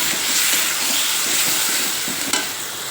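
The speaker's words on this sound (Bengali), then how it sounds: "হলুদ দেব, নুন দিলাম, দিয়ে এবার মশলাটা ভালোভাবে কষাবো।" Spice masala with turmeric and salt frying in a pan, giving a loud, continuous close-up sizzle and hiss with a single sharp scrape near the end.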